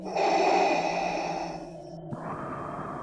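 A strong rush of moving air swells and then eases, breathy and close, with a faint steady tone running underneath and no voices.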